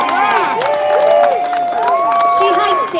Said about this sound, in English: A big round of applause for Carla.